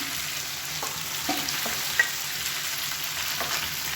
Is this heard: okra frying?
yes